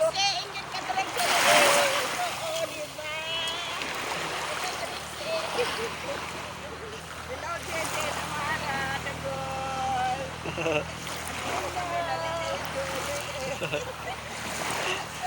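Sea water splashing as two people bathe off a shore, with irregular splashes and lapping waves under frequent nearby talk from other people.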